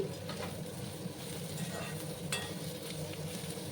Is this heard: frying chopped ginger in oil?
yes